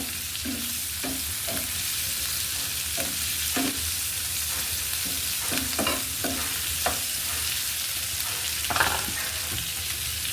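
Potato pieces fry in oil in a pan while a spatula stirs them, giving a steady sizzle broken by a series of distinct scraping strokes; close up, with nobody speaking.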